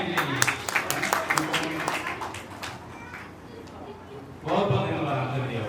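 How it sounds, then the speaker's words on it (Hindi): An audience at a social service organisation's eighth anniversary event claps: a burst of applause fades to a lull, then swells again near the end. "जोरदार तालियां इनके लिए"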